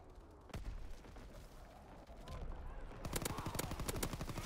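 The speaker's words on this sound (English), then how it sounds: "Incoming enemy artillery." Incoming enemy artillery in a multiplayer shooter game: a sharp blast near the half-second mark, then dense rapid bursts of gunfire and booms building toward the end, loud and close, with voices talking over the action.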